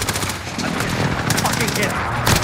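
Rapid automatic gunfire in a Call of Duty match, dense bursts of shots layered with game effects and voices talking over them throughout.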